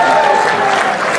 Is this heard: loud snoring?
no